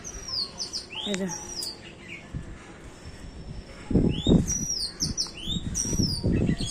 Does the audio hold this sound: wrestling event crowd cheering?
no